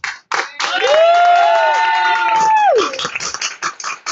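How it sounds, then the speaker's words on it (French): An audience applauds a performer at a live comedy stage show, a bright rising-and-falling whooping cheer ringing out over the clapping and crowd noise for a few seconds. "Est-ce qu'on peut refaire un tonnerre d'applaudissements pour Thomas?"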